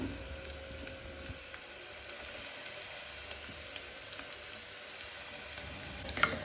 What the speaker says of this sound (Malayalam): ഇതേ ഇപ്പോൾ ക്യാരറ്റ് നന്നായിട്ട് വഴന്ന് വന്നിട്ടുണ്ട്